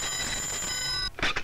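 A telephone rings with a steady electronic tone that stops abruptly, followed by brief voices, indoors in a 1994 Hindi film scene.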